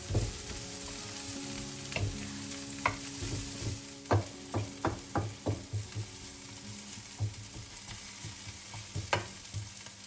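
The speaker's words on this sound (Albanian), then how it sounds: "Në të njëjtën mënyrë do të veprojmë dhe me specin, do ta përzijmë për disa minuta derisa specia të fillojë të zbutet." Red pepper and onion fry in a pan while a utensil stirs them, sharp scraping clicks recurring over a constant soft sizzle, close and without speech.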